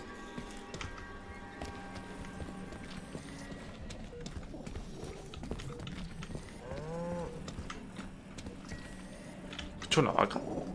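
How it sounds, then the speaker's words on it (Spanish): Cow in the video game Atomic Heart, a drawn-out bovine moo mid-clip amid game ambience, with speech present and scattered background sounds. "Una vaca."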